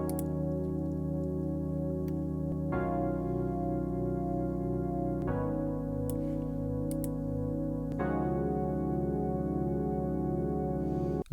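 Sustained synth chords with stereo detune and a chorus-like shimmer change roughly every two and a half seconds across a steady, dense progression, with no voices over it.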